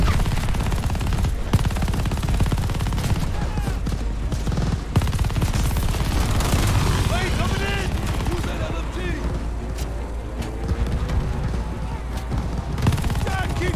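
Gunfire in the Call of Duty Vanguard campaign on a jungle trail: dense rapid automatic bursts and scattered single shots pile up continuously under shouted voices.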